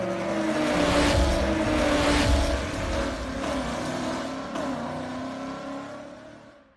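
A C8 Corvette Z06 engine revs loudly and close, its tone rising and holding before fading away at the end.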